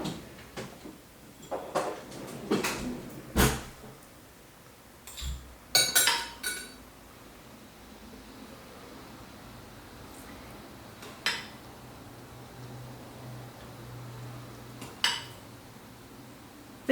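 Kitchen cutlery being rummaged through in search of a bigger spoon, with a scattered series of metallic clinks and clatters, loudest early on, then a few sparse clinks over a quiet room hum.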